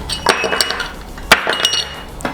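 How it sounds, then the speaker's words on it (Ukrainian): Nails are loaded into a pneumatic combination stapler, giving several sharp metallic clinks and clacks at an irregular rhythm, close and fairly loud, with no speech. "Зараз ще спробуємо зарядити замість скоб цвяхи."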